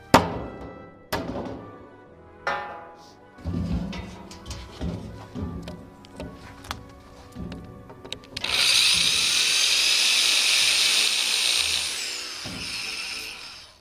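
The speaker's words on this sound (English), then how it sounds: "give it a nice whack with a hammer" A series of sharp metallic knocks from a hammer striking metal while dismantling a shed, at irregular intervals, several strikes in a row, followed by a sustained loud hiss or grinding noise.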